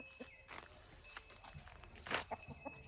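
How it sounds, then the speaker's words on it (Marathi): Chickens cluck and call in the early morning on a rural Konkan farm near Chiplun, a few short, scattered, fairly faint calls amid quiet outdoor background with light footsteps. "कोंबड्यांचा सकाळी तुम्हाला एक पहाटे पहाटे त्यांच्याकडून मिळणारा अलार्म"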